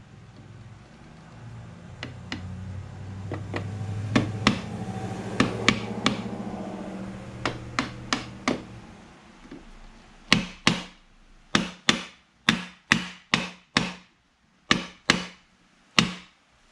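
Hammer blows drive metal frets into a flat guitar fretboard. Lighter, quicker taps come first, then a run of loud, sharp, isolated strikes with short pauses between them, close and dry.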